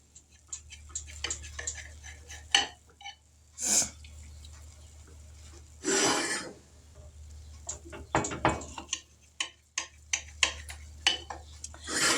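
A knife cuts through a taco meatloaf topped with melted cheese, with scattered clinks and taps of utensils against a pan or plate and a few louder scrapes, all close and fairly quiet.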